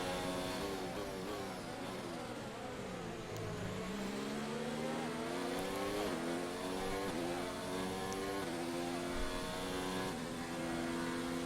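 An F1 car's engine wails at full throttle while overtaking on a straight in the F1 2019 video game, a loud continuous high-revving whine with steady gear-change pitch sweeps rising and falling throughout.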